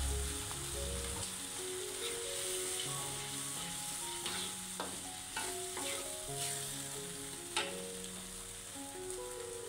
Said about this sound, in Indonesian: Setelah bumbu matang mengeluarkan minyak, kita tambahkan sekitar 50 ml air ya.